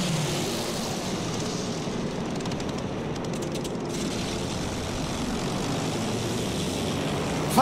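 A steady drone of propeller aircraft engines fills the whole stretch, loud and continuous with a slight rise and fall, in the video game Battlefield 1.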